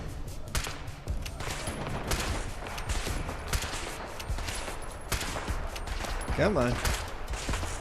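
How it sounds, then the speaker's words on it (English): Lewis gun and other gunfire in Fallout London combat, a dense continuous clatter of shots under game noise with someone briefly speaking. "Just get him with the Lewis gun"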